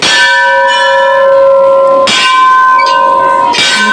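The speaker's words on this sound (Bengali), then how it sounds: "বাজা ঘন্টাটা" A metal bell at a Shiva temple is struck three times, each loud clang ringing out in long sustained overtones that decay slowly before the next strike.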